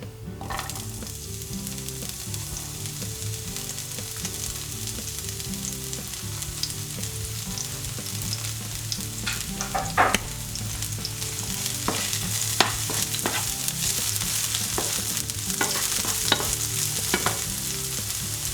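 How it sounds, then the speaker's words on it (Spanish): Chopped spring onion sizzling in a frying pan with a little oil, a continuous crackling fry with occasional stirring clicks and scrapes, no voices. "Ponemos una sartén al fuego con un poco de aceite y pochamos en él la cebolleta."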